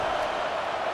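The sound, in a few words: home stadium crowd cheering in the EA Sports College Football video game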